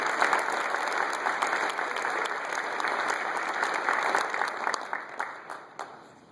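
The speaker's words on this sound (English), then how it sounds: "Let's all give Ingrid one more round of applause." Sustained audience applause fills the room at a county government inaugural gathering, a dense steady clatter of many hands that holds for several seconds before thinning and tapering off at the end.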